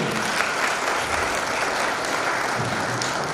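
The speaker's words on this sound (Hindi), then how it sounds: "ताली बजाएंगे जोर से।" A wedding guests' crowd at a Christian ceremony claps steadily, filling the whole stretch with dense, even applause at a moderate, unchanging loudness.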